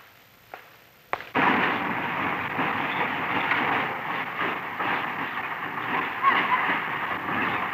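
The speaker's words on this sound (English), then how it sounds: "This switch crew, Fred, is making up a train for the north." A sharp metallic bang of freight cars coupling as a switch crew makes up a train, then a sustained loud rumbling and clattering of moving freight cars.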